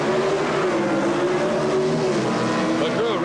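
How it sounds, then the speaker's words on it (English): A 1973 Camaro with a small-block Chevrolet engine and other highly stressed, high-revving drag racing engines in the Modified Eliminator category at the 1977 NHRA Springnationals. They make a loud, continuous roar with rising whine tones, and a commentator talks over them. "Highly stressed, high horsepower, high winding engines in this Modified Eliminator category."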